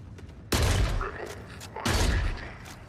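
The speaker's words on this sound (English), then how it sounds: "Is that a turret? That is a turret." A turret in Forever Winter fires two heavy, booming mechanical blasts about a second and a half apart, each decaying with a rumbling, creaking tail against a quiet backdrop.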